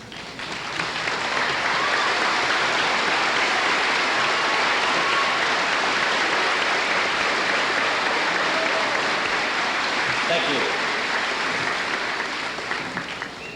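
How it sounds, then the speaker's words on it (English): An audience at a high school graduation applauds standing students, a dense, sustained wash of many hands clapping that swells in and holds steady for over ten seconds before easing slightly at the end. "we would like to applaud you"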